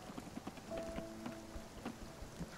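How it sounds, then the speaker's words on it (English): Rain falls in the Spiritfarer video game as a soft, quiet patter with scattered drop taps, alongside gentle sustained musical tones and faint footstep-like knocks. "Oh right, because it's raining."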